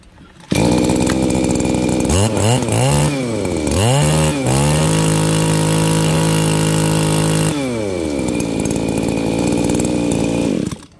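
A Japanese X14 brush cutter's small two-stroke engine is test-run close by, revving loudly up and down several times, then holding a high, steady whine before dropping back and cutting off.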